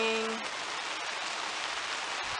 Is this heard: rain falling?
yes